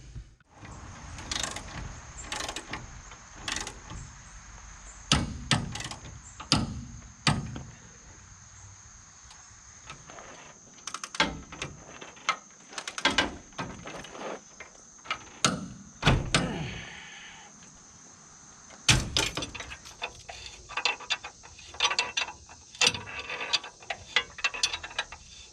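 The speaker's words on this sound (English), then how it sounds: "I got the spring hanger bolts torqued to spec" A wrench clicks and ratchets in short bursts while tightening the spring hanger bolts on a 1990 Ford F350, with sharp metallic knocks and pauses between sets of turns, close and alone.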